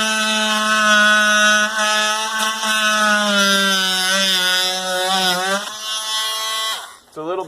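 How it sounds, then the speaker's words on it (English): An oscillating plunge saw cuts into old wood siding on a house, making a loud, steady, high buzzing whine that shifts in pitch as it bites and stops abruptly near the end. "then we'll just cut this off with the oscillating saw, the plunge cutter"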